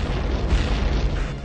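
Mortar rounds destroyed by the Northrop Grumman and BAE Systems Talon tactical high-energy laser air defense system blow apart in a continuous deep rumbling boom that holds steady and loud for the whole moment, with no talk over it.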